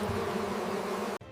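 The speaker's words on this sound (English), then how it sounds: "In it he saw a swarm of bees and some honey." A dense swarm of bees buzzes in a steady, loud, continuous drone that cuts off abruptly near the end.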